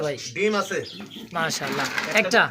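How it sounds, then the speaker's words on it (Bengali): Black racer pigeons coo close by in throaty, repeated rolling calls, with someone talking over them. "দেখতে পাচ্ছি আরও এক জোড়া রেসার কবুতর"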